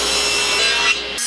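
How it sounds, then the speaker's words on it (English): A table saw rips a 2x4 board lengthwise for building cornhole boards, giving a loud, continuous, rough cutting roar that runs for about a second before cutting off abruptly. "we're going to rip both of these down on the table saw."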